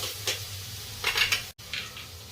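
Cumin seeds and asafoetida sizzle in hot oil, giving short, bright bursts of crackle and hiss against a low background hum, close and moderately loud, with a brief dropout partway through.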